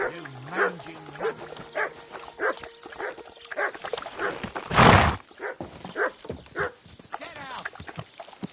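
Dog barking and whimpering in Kingdom Come Deliverance 2, short repeated yelps and whines spread through the clip with one loud burst near the middle, mixed with game background sounds.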